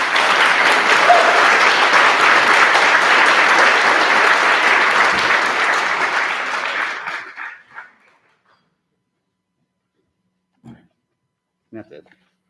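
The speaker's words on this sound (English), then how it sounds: "Everybody clapped anyways." Loud, dense audience applause fills a bargaining meeting room for about seven seconds, then fades out, followed by near silence with a couple of faint brief sounds.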